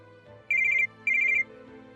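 A telephone ringtone sounds in two short electronic bursts of rapid warbling trills, fairly loud over a quiet low room hum with no talk.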